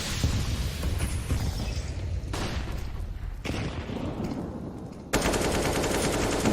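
Heavy automatic fire and muffled grenade blasts in a professional Counter-Strike: Global Offensive match, steady and moderately loud, ending in an abrupt louder burst of shooting.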